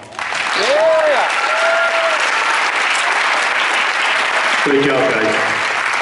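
A large audience at a high school senior awards ceremony applauds loudly and steadily throughout, with a few voices calling out and speaking briefly over the clapping.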